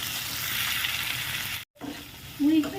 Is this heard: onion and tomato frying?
yes